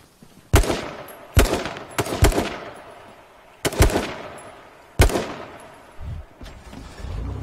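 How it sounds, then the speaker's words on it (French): Loud gunshots ring out in the online shooter H1Z1, five or six sharp cracks at uneven intervals, each trailing a brief echo, with no other sound between them. "En fait, tu tires une balle juste"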